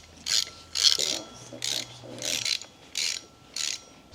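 A ratchet with a triple square bit torquing flywheel bolts on a junkyard 1.8T engine: six loud, close bursts of rapid pawl clicking, each about half a second long, separated by short pauses.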